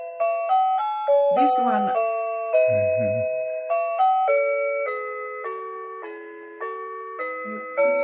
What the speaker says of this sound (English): that was Jingle Bells just then